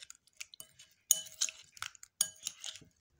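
Spiced potatoes with chili powder and soy sauce being mixed in a bowl, quiet clinking and scraping of a spoon against the dish in short irregular bursts, close and soft.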